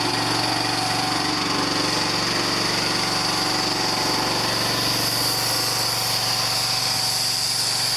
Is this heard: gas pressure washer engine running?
yes